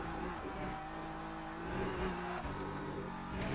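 The BMW race car in Le Mans Ultimate, racing at Monza and heard onboard, gives a continuous engine drone that rises and falls with revs, with faint tire noise and no voices.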